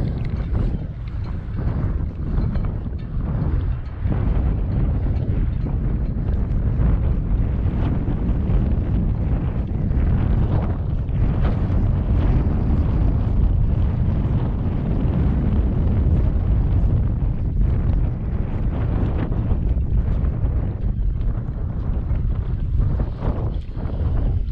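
Steady wind buffets a microphone outdoors by the water while fishing on a breezy day, a continuous low rumbling roar with gusty swells and no one speaking.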